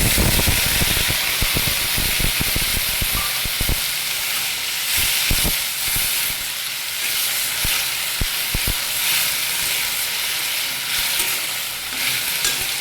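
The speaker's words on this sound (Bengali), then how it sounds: "এখন আমি এখানে দিয়ে দেবো যে হলুদের জল গুলিয়ে রেখেছিলাম, এটা দিয়ে দেবো।" Turmeric water is poured into okra, potato and corn frying in a pan, setting off a loud, steady sizzle and hiss with scattered stirring clicks, close by and with no talk.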